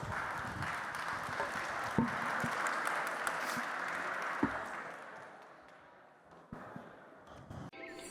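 An audience applauding at a student game awards presentation, a dense burst of clapping that swells early and slowly fades away, with a few sharper isolated claps near the end.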